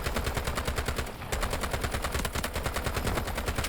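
Rapid automatic gunfire fills a round of the shooter game Delta Force, a loud steady rhythm of closely spaced shots with one short pause before the burst resumes, and no voices.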